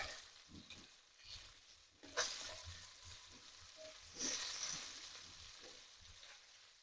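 Prawns fry in masala in a pan with a soft, continuous sizzle, broken by a couple of sharper bursts as the pieces are stirred and turned.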